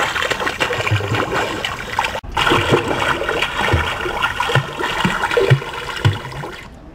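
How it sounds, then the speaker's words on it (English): Water fountain at Seattle airport running steadily, a close, continuous splashing trickle of water with faint background hum, one brief cutoff midway. "Listen to this water fountain over here."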